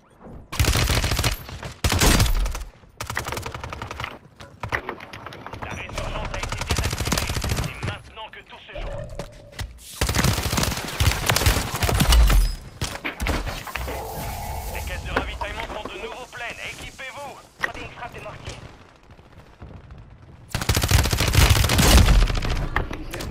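Rapid bursts of submachine gun fire in the Warzone Season 6 video game, loud automatic volleys separated by short pauses, with a voice talking in between.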